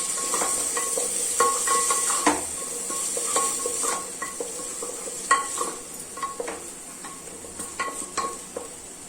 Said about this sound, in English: Let's mix it.